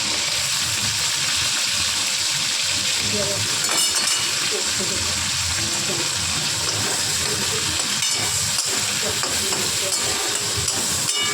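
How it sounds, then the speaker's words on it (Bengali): Shrimp with onion and chili fry in a pan, giving a continuous dense sizzle with occasional utensil clinks and stirring, close and fairly loud from start to finish. "পেঁয়াজ আর লঙ্কা এটাকে খুব ভালো করে আমরা ভাজা ভাজা করে নেবো"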